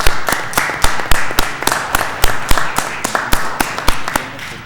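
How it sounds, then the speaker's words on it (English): A city council meeting audience applauding the banner designers and committee, a scattered round of handclaps with a distinct uneven rhythm, fairly close and alone. "I'd just like to give the designers and the committee a round of applause for their great work"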